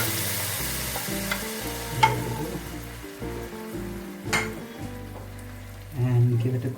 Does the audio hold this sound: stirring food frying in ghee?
yes